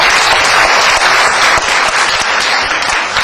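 Loud, dense applause at a university debate competition final award ceremony, many hands clapping continuously and close, filling the whole stretch without voices.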